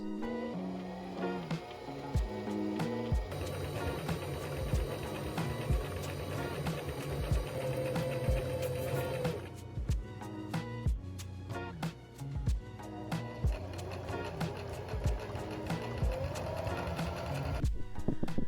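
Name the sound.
sewing machine stitching around an apron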